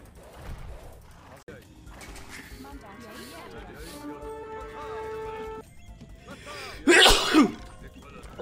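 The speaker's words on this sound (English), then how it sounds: "Worst timing to sneeze." A sudden, loud sneeze bursts out near the end, standing clearly above quiet background noise and some faint voices.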